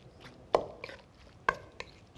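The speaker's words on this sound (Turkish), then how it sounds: "Şöyle karıştırıyorum." Utensil strikes and scrapes while stirring food in a kitchen, several sharp knocks against the pot at uneven intervals with softer scraping between, close and clear.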